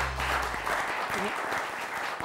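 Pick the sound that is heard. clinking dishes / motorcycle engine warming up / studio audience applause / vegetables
studio audience applause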